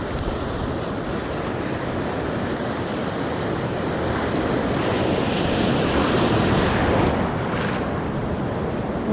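Surf breaking steadily on a beach at Half Moon Bay, California, a continuous loud wash of waves with wind buffeting the microphone throughout, swelling slightly toward the middle.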